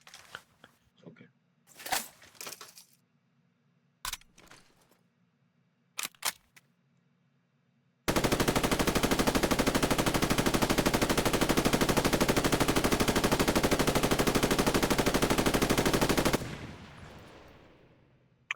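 Sustained automatic machine gun fire on cyclic mode in a Roblox military simulation game: a continuous, loud, unbroken burst of about eight seconds, preceded by a few short isolated shots and clicks and followed by a brief fading tail.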